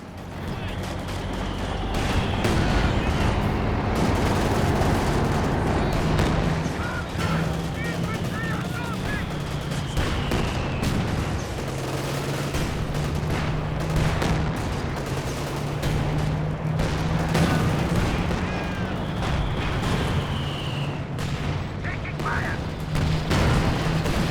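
Heavy machine gun fire in Company of Heroes 2 rattles in dense repeated bursts over a low, droning vehicle engine, loud and continuous with scattered explosions across the battle.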